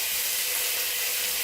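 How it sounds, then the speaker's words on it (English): Bacon frying in heated lard in a pan, giving a steady, loud, dense sizzle that runs unbroken from start to finish with no talk over it. "the lard's heated up now, so we'll go ahead and add the bacon"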